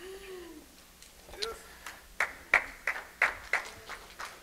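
Scattered hand claps from a church congregation after worship, a handful of sharp separate claps in an uneven rhythm, close and distinct against a quiet room, with faint voices early on.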